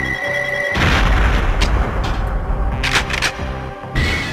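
Fly-by-wire rocket detonating in the shooting game Perfect Dark: a loud booming explosion bursts in after a brief quieter lead-in, rumbling on with sharp crackling bursts before fading, then a short lull.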